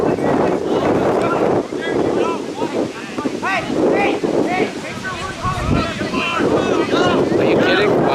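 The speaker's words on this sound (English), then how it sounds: "The wind is blowing." Strong wind sweeps across an outdoor youth soccer field and buffets the microphone in a constant loud roar, while people talk beneath it.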